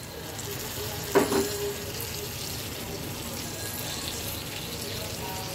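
Water is poured into a pan of simmering koi fish gravy with soft-cooked bottle gourd greens, making a short splash and burst of hiss early on before a steady, even sizzle carries on alone.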